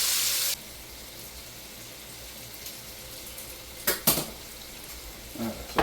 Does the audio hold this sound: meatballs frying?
yes